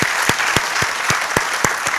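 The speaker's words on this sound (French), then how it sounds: "Sous vos applaudissements, s'il vous plaît." Audience applause at a French-language book dedication ceremony, a steady wash of clapping with several sharp, louder claps standing out at regular moments, fairly close and loud throughout.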